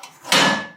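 The plastic cover of a Focus Alpha Max 6250 printer swings open, a short rustling scrape and then a louder hollow sliding clunk that fades out, close by.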